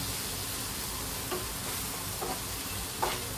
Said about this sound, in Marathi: मी 2 मिरच्या टाकल्यात मधून चिरून.